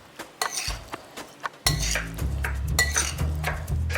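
Utensils clink and scrape against a bowl as avocados and tomatoes are gently stirred into an avocado salad, a few sharp taps first followed by a louder, continuous stirring clatter close by.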